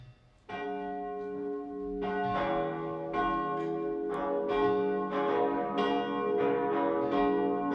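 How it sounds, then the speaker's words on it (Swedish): Church bells ring out in overlapping, resonant peals from a cathedral after a Sunday high mass, steady and loud, their tones blending into a continuous rich clangor with no voices. "Nu låt oss lyssna till klockringningen."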